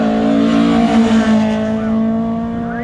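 A classic racing car pulls away from the start line at the Shelsley Walsh hillclimb, its engine a loud, sustained raspy roar close by with steady drone and slight rise in pitch as it accelerates, no talk.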